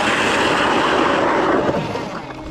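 A drone flying over a frozen lake while ice fishing in Minnesota, a loud steady whirring buzz that fills the whole stretch and eases slightly toward the end.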